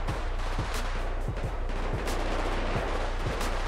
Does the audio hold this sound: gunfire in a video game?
yes